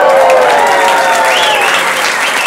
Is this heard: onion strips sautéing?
no